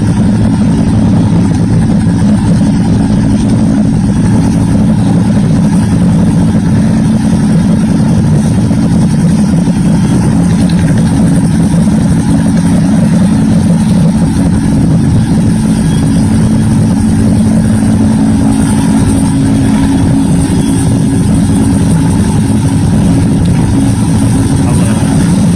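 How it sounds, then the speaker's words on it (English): An army helicopter hovers over a soccer game in Tunisia, its rotor and engine making a steady, loud, unbroken drone for the whole stretch. "It's a helicopter basically stationed over these kids as they try to play a baseball or a soccer game."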